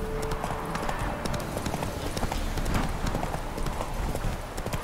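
Roach, the horse in The Witcher 3: Wild Hunt, clip-clops along at a steady pace, close hoofbeats running continuously under faint ambient sound.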